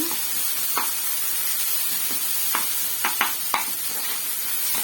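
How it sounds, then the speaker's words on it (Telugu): Ginger garlic paste and turmeric fry in a pan for pasta, giving a steady close hiss with a few brief sharper crackles and pops scattered through it. "దాంట్లోకి అల్లం వెల్లిగడ్డ పేస్ట్ వేసుకోవాలి అది కొంచెం వేగాక మళ్ళీ దాంట్లోకి కొద్దిగా పసుపు వేసుకోండి"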